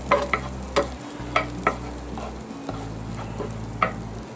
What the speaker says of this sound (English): Let all that butter melt.